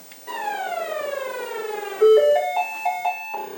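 Armored Patrol on a TRS-80 Model 3, played through a small speaker amplifier: a descending electronic sweep, then a run of short stepped beeps and blips, near and alone with no talk.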